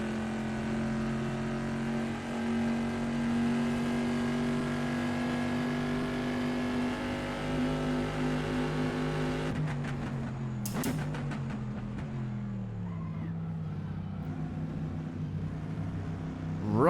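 A WSC Legends race car engine in the Assetto Corsa driving game holds a steady drone for a long stretch, then drops through rapid downshifts and revs near the end, with no talking.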